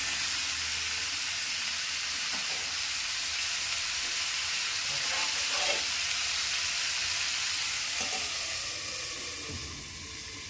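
Tomatoes sizzle in a pan with potatoes and drumsticks for aloo posto, a loud, continuous hiss with a few soft stirring scrapes, fading somewhat toward the end.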